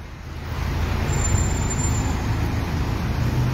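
Busy road traffic at a signal-controlled intersection of two avenues, a steady near wash of passing cars, buses and trucks rumbling continuously at moderate loudness, with no clear talk.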